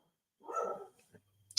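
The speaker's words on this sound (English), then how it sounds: "I don't know if you can hear my dog, but she's gone nuts tonight." A dog at home barks once or twice, somewhat distant and muffled, followed by a short faint whimper, in an otherwise quiet room.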